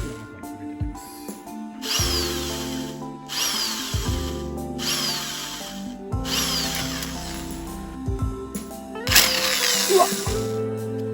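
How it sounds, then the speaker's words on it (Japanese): A power drill bores a hole into a plastic panel on a BMW Z4 E85, running in several whining bursts of about a second each with short pauses between, close up, with occasional clicks and rattles. "なのでこの辺に穴を開けてみたいと思います。"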